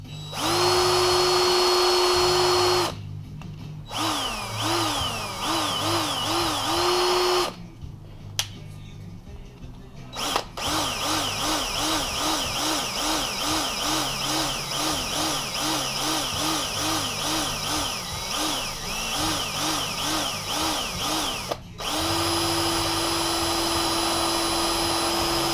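A power drill boring into the metal hand-control lever of a drift trike, whining at a steady high pitch in long sustained runs, broken by several short pauses and bursts of grinding chatter as the bit bites.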